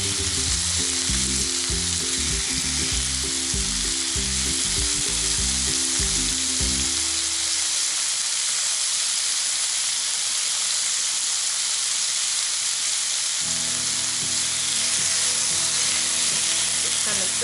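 Pork sizzles and fries loudly in a pan for kimchi stir-fried pork while chopsticks separate the pieces, a steady hiss with bursts of stirring and rattling that drop away midway and then return.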